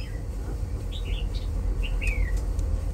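A wild-caught hwamei songbird gives a few short, bright chirps and a quick whistled note, close and clear over a low background hum.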